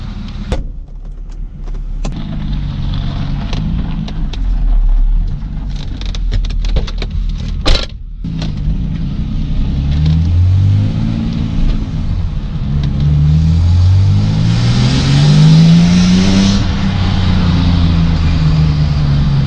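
A six-cylinder car engine idles roughly, then revs and accelerates in repeated rising sweeps, loud and close, with no voices.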